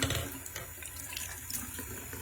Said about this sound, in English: we're going to start off with some lukewarm water